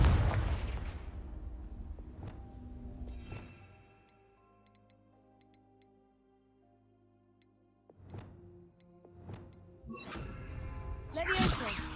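Confringo fire-blast spells in the game Hogwarts Legacy go off as booming bursts with whooshing tails, clustered at the start and end around a quieter stretch, with a voice audible in places.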